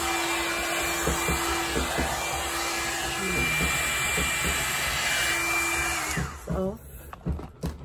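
A hair blower or air brush dryer runs steadily with a loud, even whoosh for about six seconds, then cuts out, with someone talking briefly over it and after it stops.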